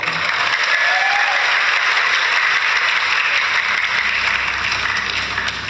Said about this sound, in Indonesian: Tepuk tangan toh.